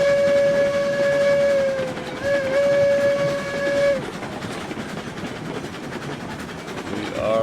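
Locomotive in the RailRoads Online train game sounds a long steady steam whistle for about four seconds over the rumble of rolling stock, then the whistle stops and the train rolls on alone, ending with a brief second whistle.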